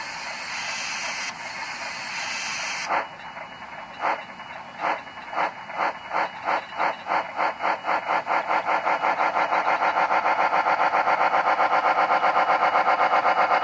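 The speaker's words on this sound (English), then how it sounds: "this is an older sound decoder" A rhythmic chuffing from an older sound decoder in an HO scale Bachmann three-truck Shay model locomotive, starting slow and speeding up into rapid, even bursts like a machine gun, mechanical and close, with no talking.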